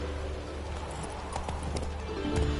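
Roach, the horse in The Witcher video game, gallops with steady, close clip-clop hoofbeats over a constant background bed, rising slightly louder near the end, with no talking.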